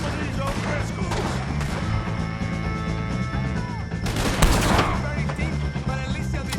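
A Red Dead Redemption 2 shootout against O'Driscolls with dense, continuous gunfire and crashing impacts under a busy game mix, one louder burst standing out near the end; no words spoken.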